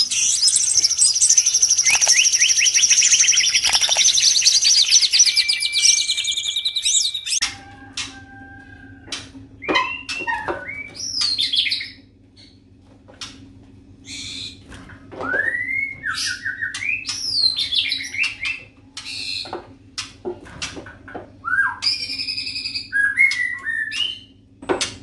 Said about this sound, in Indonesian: ini adalah murai batu saya yang ngelowo over birahi